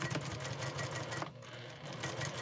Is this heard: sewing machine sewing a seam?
yes